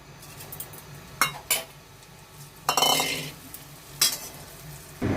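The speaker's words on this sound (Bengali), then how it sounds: "এতে আমি আরেকটু ঘি দিয়ে এই ল্যাকচাটা আমি ভেজে নেবো।" Lachha vermicelli frying in ghee, with a low sizzle under several sharp scrapes and clinks of a spatula against the pan, close by.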